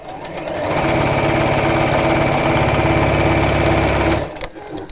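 Sewing machine stitching steadily around a corner while piping is attached, a close, loud rapid whirring and needle chatter that ramps up, runs continuously, then stops abruptly near the end.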